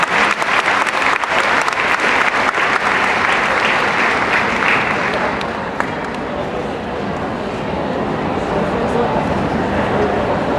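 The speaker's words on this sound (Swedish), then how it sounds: "Och de som lämnar oss får en stor applåd av oss nu." Loud, sustained applause from a dog show crowd, dense clapping that fills the whole stretch, easing slightly midway and then carrying on steadily, with some voices mixed in.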